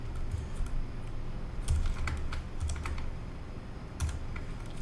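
Typing on a computer keyboard while entering a Cisco ASA firewall command: quick irregular bursts of key clicks, close and moderately loud over a steady background hum, with no talking.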